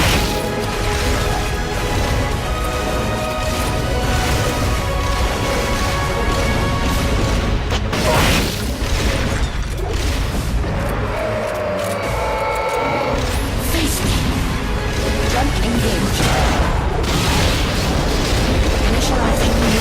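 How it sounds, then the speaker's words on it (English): A rocket launcher fires in Metal Gear Solid Peace Walker amid a loud, continuous wash of booming blasts and rumbling explosions, with voices talking under the din throughout. "Rocket launcher."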